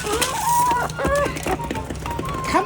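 Backyard chickens cluck and call close by in bursts of rising, throaty notes, several birds overlapping against light outdoor background noise.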